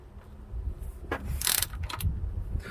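Nuts being tightened by hand tool onto the wiring studs of a Lippert hydraulic pump motor, small brass fittings, giving close metallic ratcheting clicks and scrapes in short bursts around the middle, over a low steady background hum.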